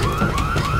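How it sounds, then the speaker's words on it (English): A car alarm blares inside the zombie shooter Left 4 Dead 2, a steady electronic tone looping loudly and continuously throughout the short moment, with no talking over it. "There's the alarm."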